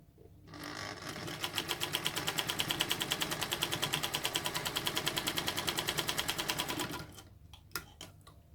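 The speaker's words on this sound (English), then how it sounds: "we are going to sew our scant 1/4 inch seam allowance" A sewing machine runs steadily for about six seconds, stitching a scant quarter-inch seam on a Capital T quilt block, its needle clattering in a fast, even rhythm before it stops. A few faint clicks follow, and no one speaks.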